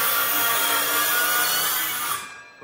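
A power drill bores into masonry during a home renovation, a loud, steady grinding whine that holds unbroken and then cuts off near the end.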